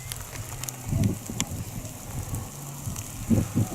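Rain patters on the island of Tresco in the Scilly Isles, a soft, steady shower with irregular low gusts of wind buffeting the microphone.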